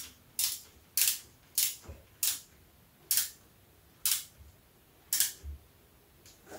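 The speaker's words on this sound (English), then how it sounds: "I'm going to snug them all down until they're all about the same tension." Bolts are snugged down during a rear main seal replacement on a Mk4 Volkswagen Jetta TDI with the ALH engine, giving a steady series of sharp, close mechanical clicks about a second apart, with quiet pauses between.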